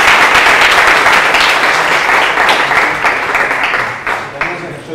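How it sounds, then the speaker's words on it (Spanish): An audience at a physics colloquium applauds, a full, loud wash of many hands clapping continuously that tapers slightly near the end, with some speech mixed in. "tenemos un aplauso otra vez a Johan"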